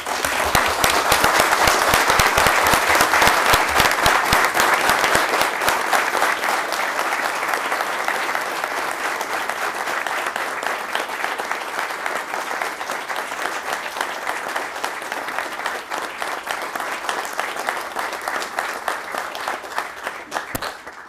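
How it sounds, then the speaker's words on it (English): Sustained audience applause from a council meeting crowd honoring a group of Explorers, loud and dense at the start, then gradually thinning and softening over about twenty seconds. "give these Explorers a round of applause, please."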